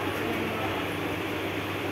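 Inside a stationary passenger train on a hot day, a steady low rumbling hum fills the carriage, with no distinct events.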